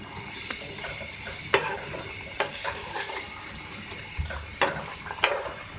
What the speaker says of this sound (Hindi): इसको मिक्स करें और निकाल लें